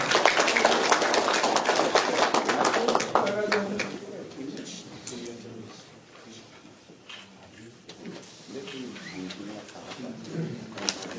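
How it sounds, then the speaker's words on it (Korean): Applause at a commemorative ceremony in Korea marking publication of a survey booklet on donated real estate; dense clapping fills the opening few seconds, then fades into scattered claps, murmuring and voices over the remaining time. "큰 박수 부탁드리겠습니다"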